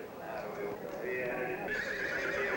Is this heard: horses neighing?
yes